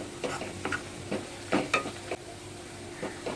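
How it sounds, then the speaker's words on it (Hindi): Asafoetida fries in a pan while spinach dal is being prepared, giving soft sizzling with intermittent stirring scrapes, close and fairly quiet. "अब हम इसमें हींग मिला देते हैं। और इसको थोड़ी देर तक भूनते हैं।"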